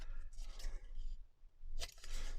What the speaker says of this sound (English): I fold it first and I cut like that.